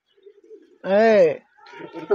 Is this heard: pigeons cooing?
yes